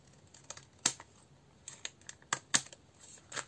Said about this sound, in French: Ça, je vais déjà découper ça. Ce qui dépasse.